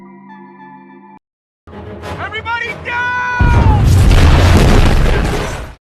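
A grenade detonates inside an alien robot's intake in a film scene, and a loud, roaring blast swells and rumbles for a couple of seconds after shorter crashing and screeching effects.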